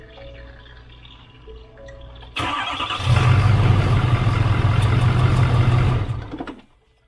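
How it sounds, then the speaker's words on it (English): Ford 6.7 diesel pickup with sensors unplugged and intake removed cranks with a whirring starter, fires into a loud rough idle with a deep low drone for a few seconds, then shuts off abruptly into silence. "I didn't think the truck would start with all these sensors and everything unplugged, but I guess it did."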